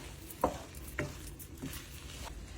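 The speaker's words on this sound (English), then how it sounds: "Again, stir that all in." Couscous is being stirred into a large dish, giving soft scraping and patting sounds and a few brief utensil clinks against the pan over a quiet background with no talk.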